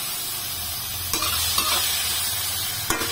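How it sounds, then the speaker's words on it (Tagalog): Bitter gourd (ampalaya) sautéing in a pan, a steady close sizzle of frying with a few brief stirring scrapes and clanks, no voices. "Pintan yung aking ampalaya."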